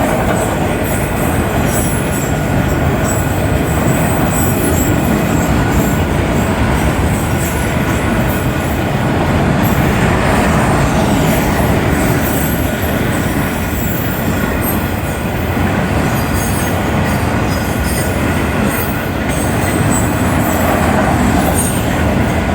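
Union Pacific manifest freight train carrying many auto racks rolls past at night, a loud, steady rumble of wheels and cars with faint squeals, continuous and close for the whole stretch.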